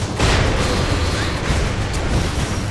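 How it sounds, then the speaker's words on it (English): A loud, dense video game explosion in Saints Row 4 roars and rumbles continuously, with heavy low booms and crackling debris filling the whole stretch. "Well, that explosion should take care of him."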